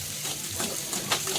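Raw onion and fresh spice masala fry in a pan for a Malenadu-style fenugreek sambar, giving a steady, close sizzling hiss with a faint scrape near the end.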